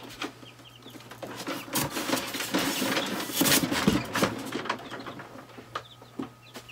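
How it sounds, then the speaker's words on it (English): Newly hatched chicks peep and chirp in a small group nearby, busy overlapping calls that rise and fall with no talking. "Altogether, we had 10 chicks hatch, which is a great start to our new flock."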